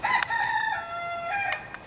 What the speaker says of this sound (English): I can hear he's having a contest with another rooster in the neighborhood